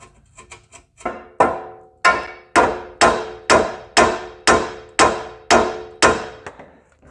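Sharp metal-on-metal hammer blows ring out at close range while rusted leveling keys are driven out of a 2004 Chevy Suburban 2500 4WD: a few lighter taps, then about ten heavy, evenly spaced strikes with no talk.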